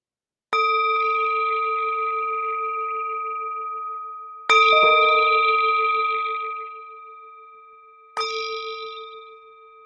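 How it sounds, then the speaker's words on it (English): A meditation bell is struck three times, each a bright metallic clang with a long, slowly fading ring of sustained tones, loud and alone in a quiet space. "the sound of this beautiful bell returns us to our true home"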